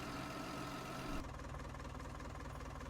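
A tractor engine in the farming video game Farming Simulator 19 runs steadily at a mid-pitched idle, then drops to a lower, rougher rumble partway through, loud and alone without talk.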